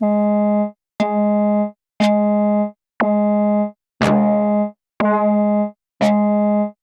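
Seven identical sustained modular synth tones, about one per second, each starting with a different attack, some clicky, some noisy bursts, then cutting off cleanly.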